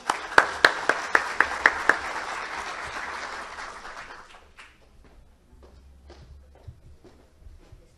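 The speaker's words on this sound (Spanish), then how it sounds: "brindar un fuerte aplauso a nuestro expositor" An audience applauds a speaker at a public-service ethics talk. Several sharp single claps ring out first, then a crowd's clapping fades out over a few seconds, leaving scattered faint taps and shuffling in a quiet room.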